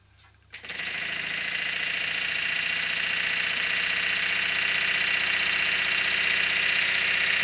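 A four-cylinder self-starting air/steam engine unit starts up after a moment of quiet and keeps running steadily. It gives a loud, even, rapid mechanical chatter with a broad hiss, and no voices are heard.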